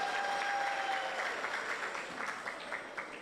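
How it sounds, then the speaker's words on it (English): Audience at a regional annual certification ceremony for graduates applauding, a steady wash of many hands clapping at moderate distance throughout. "Clap on yourself."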